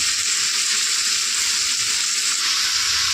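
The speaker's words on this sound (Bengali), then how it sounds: "দেখো আমি ডালটাকে কিছুক্ষণ ভেজে নিয়ে এবার আমি কেটে রাখা আলুটা দিয়ে দিলাম, দিয়ে আবার কিছুক্ষণ ভেজে নেব।" Chopped potatoes fry with lentils in a pan, a loud, dense, continuous close sizzle that holds steady throughout.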